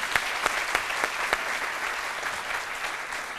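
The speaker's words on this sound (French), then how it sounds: "je vous demande d'applaudir" Studio audience on a midday Ivorian TV talk show applauds steadily, a dense wash of clapping with a few sharper individual claps standing out, sustained and fairly close throughout.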